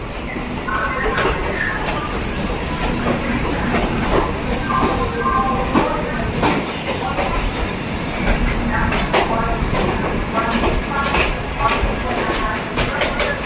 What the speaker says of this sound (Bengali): আর আমাদের ট্রেন প্রবেশ করে গেছে